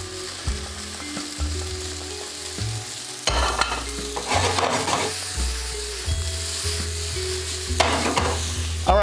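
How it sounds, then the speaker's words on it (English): Shrimp and scallion sizzle loudly in a hot pan, a continuous close frying hiss punctuated by several bursts of stirring and scraping as the food is tossed. "Back in the shrimp go."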